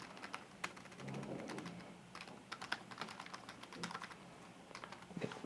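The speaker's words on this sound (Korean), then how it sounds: "타이핑을 해서 입력을 해서" Rapid, irregular keystrokes on a computer keyboard entering text into a web page builder, close and fairly quiet, in bursts with brief pauses and no talking.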